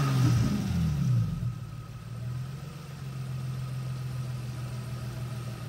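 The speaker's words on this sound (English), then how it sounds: "I wanted to show you just that throttle body kind of in action, you know, just show you do its thing." Engine idle from a 2JZGE fitted with a Bosch 82mm drive-by-wire throttle body, a steady low rumble that swells briefly at the start and then settles into an even, close hum with no talking.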